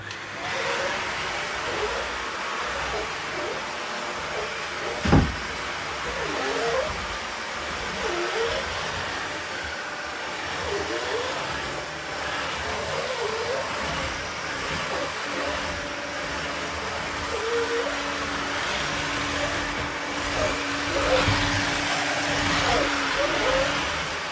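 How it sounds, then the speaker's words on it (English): A household vacuum cleaner runs steadily throughout a lounge being deep cleaned, a continuous loud motor whine and rush with small bumps and one sharp knock as it moves around. "I think I might run the vacuum around this bit now."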